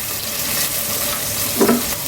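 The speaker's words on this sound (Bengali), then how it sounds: "মশলাটাকে একটু ভেজে নেব।" Garlic paste and ginger paste frying in a pan after the onions, giving a steady close hiss of sizzling with a brief stir or scrape partway through.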